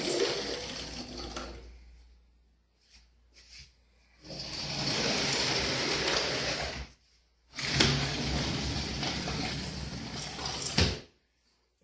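A stiff, hard-to-open sliding glass door in need of repair is forced along its track in several long, loud grinding scrapes separated by short pauses, close by with no speech over it.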